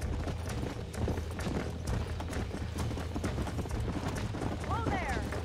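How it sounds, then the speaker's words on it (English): A horse's hooves clop steadily in the Red Dead Redemption video game. Clear rhythmic hoof beats run over a low rumble throughout, with a brief whinny-like call near the end. "Meanwhile, my horse is trying to run the fuck away from me."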